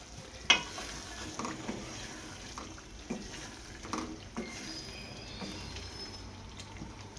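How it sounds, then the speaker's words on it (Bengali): Eggs being stirred into a frying masala, soft intermittent scrapes and taps of a spoon over a quiet sizzle, with a sharper clink near the start and no talking. "এখন আমি ভালো করে নাড়িয়ে মশলার সাথে মিক্স করে নিব।"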